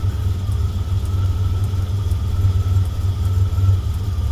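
A Buick Turbo Regal Grand National engine idles with a steady, loud low rumble and an even pulsing throb, close up and without any voices.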